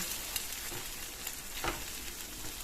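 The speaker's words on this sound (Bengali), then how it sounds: "এবার ডিমটাকে এই মশলার সঙ্গে ভালোভাবে একটু ভুজিয়া করে নিতে হবে" Eggs frying in a pan with spices, scrambled into a bhurji, giving a steady close sizzle with a few soft stirring scrapes and no voices.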